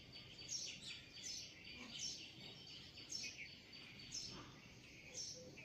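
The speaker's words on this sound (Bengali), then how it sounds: "আমার তো ভীষণ ভালো লাগছে সকালবেলায় এই পাখির ডাক শুনতে" Small birds sing on a rooftop garden in the morning, faint repeated high chirps recurring about once a second over a soft background of insects, with no voices.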